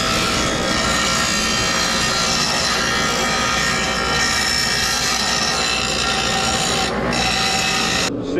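A steel knife blade ground on a powered grinder gives a loud, steady, high-pitched whine and grinding hiss that runs continuously, with a brief dip near the end and no talk.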